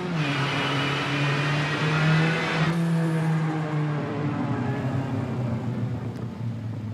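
A Citroen rally car engine in the WRC 7 racing game drones steadily and loudly throughout, its pitch shifting partway through as the revs change, with no talk over it.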